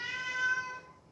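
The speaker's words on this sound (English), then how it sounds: "And that is my cat." A domestic cat gives a single drawn-out meow, moderately faint and fading over about a second in a quiet room.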